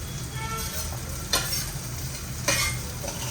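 Carrot and capsicum tossed into a pan with browning onion, a continuous close sizzle broken by two sharp scraping stirs, with no talk.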